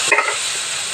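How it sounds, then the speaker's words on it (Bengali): Washed Gobindobhog rice is stirred in a kadai with cumin and cloves for khichuri, making a brief scraping stir over a steady frying sizzle, with no talking. "এবার আমি চালটা নেড়ে নেবো"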